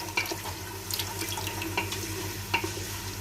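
A spoon stirs nihari masala as it roasts in a pan with small splashes of water added: soft scraping and wet, intermittent clicks over a low sizzle, close and fairly quiet.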